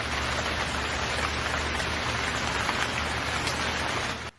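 Steady rain falls continuously, a dense even hiss of drops on a surface, with no voices, cutting off abruptly at the end.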